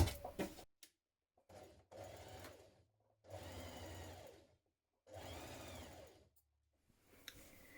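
A sewing machine runs along a dress seam in several short bursts separated by pauses, close and fairly quiet, with no talking.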